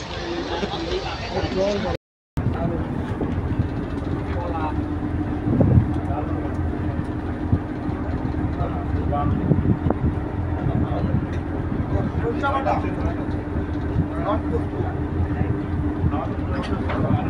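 Steady low engine drone of the passenger launch MV Ma Tara departing in the Sundarbans, continuous and fairly loud, with people talking over it and a brief dropout near the start.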